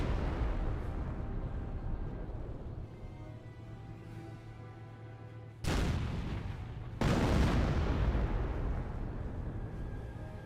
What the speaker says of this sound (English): There's the actual barrage.